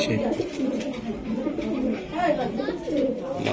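Racer pigeons cooing in a busy bird market, their low murmuring calls blended under loud, continuous nearby talk and general crowd noise.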